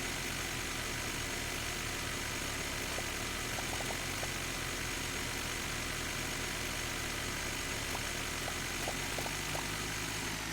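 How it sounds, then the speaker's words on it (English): A tractor engine in the farming game Dinkum idles and runs steadily throughout, a low, even mechanical drone with faint higher rattles, close and constant with no talking. "Tractor, you're doing pretty good today."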